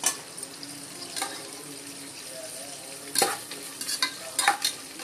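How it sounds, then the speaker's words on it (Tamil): Green chillies being sautéed in a pan with curry leaves and spices for tomato rice, a steady low sizzle under occasional scraping stir strokes, close, with no voices. "பச்சை மிளகாய் கொஞ்சம் வதங்கணும்."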